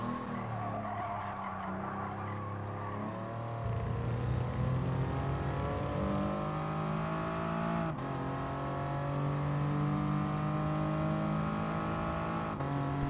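Racing car engine in Gran Turismo Sport, a front-engine front-wheel-drive car driven at Willow Springs, droning steadily and loud, its pitch climbing through gear changes with tire squeal along the way, no talking over it.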